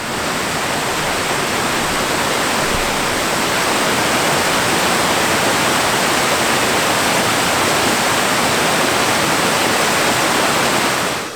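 The Sotavaaranoja creek in Lapland rushes over a shallow crossing in summer, a loud, steady, broadband wash of flowing water that stays constant and close throughout, with no voices.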